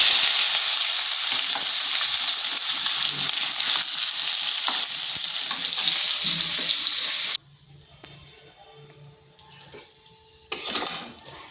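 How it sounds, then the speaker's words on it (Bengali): Potatoes fry in hot oil in a kadai for restaurant-style aloo fulkopi, with a loud, continuous sizzle that cuts off abruptly, then quieter kitchen clinks and a brief final burst of frying. "এরপর আলুগুলোকে ভেজে নিচ্ছি।"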